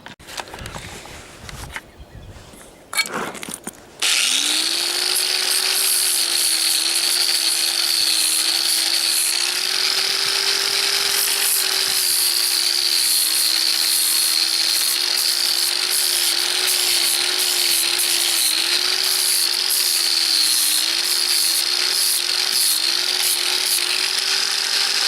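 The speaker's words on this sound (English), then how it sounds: "It's really coarse sandpaper, and we'll use this to grind off the rest of the rubber and clean off the glue." A coarse sandpaper flap wheel grinds leftover rubber and glue off the sole of a motocross boot, a loud, continuous power-tool whine that starts after a few seconds of handling noise and holds steady to the end.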